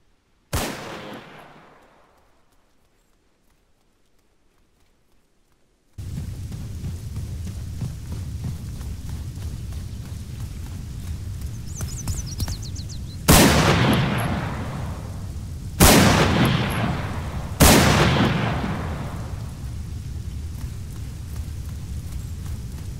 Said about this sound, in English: let's take a look at the Chiappa Rhino in action against players.